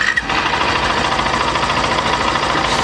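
A Honda Shine 100 motorcycle engine catches after a brief moment and settles into a loud, close, steady idle with an even mechanical beat.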